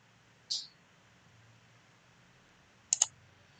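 Two sharp, isolated mouse clicks about two and a half seconds apart, made while selecting the WordPress install icon in the Softaculous app installer, quiet and close over a faint steady background hum.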